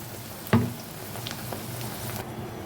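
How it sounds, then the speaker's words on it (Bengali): Jute leaf fritters frying in hot oil in pairs, a sharp sizzle bursting as batter drops in, then a steady low crackle and bubbling that carries on with small pops. "তেলের মধ্যে এইভাবে ছেড়ে দিতে হবে আমি দুটো দুটো করে ভেজে নিচ্ছি বন্ধুরা"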